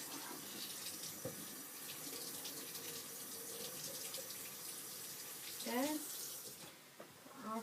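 Water runs from a lab sink tap for rinsing, a steady close splash through most of the stretch; a voice speaks briefly partway through, and the flow cuts off near the end.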